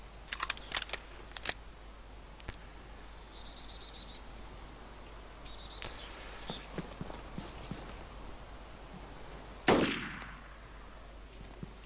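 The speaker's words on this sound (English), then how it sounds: "That is a very loud weapon, isn't it?" A few sharp gunshots from a loud weapon in the video game DayZ, mostly bunched near the start with scattered later cracks and one heavier blast near the end, heard alone with no talking.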